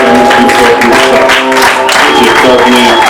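A church congregation at Bethel Ministry Church applauding, dense clapping and crowd noise mixed with a sustained tonal music line and a voice over it, loud and continuous throughout.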